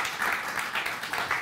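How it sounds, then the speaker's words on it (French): A small crowd claps in a short burst, moderately near and fairly faint, with a loose, uneven rhythm. "Même applaudissements pour ça!"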